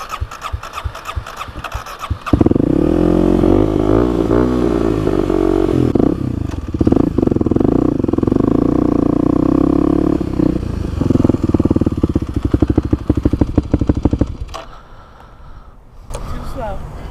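A motorcycle engine roars up under hard acceleration during a DMV skills test, holding a loud, close, steady drone before dropping off abruptly as the bike brakes to a quick stop, with voices briefly present.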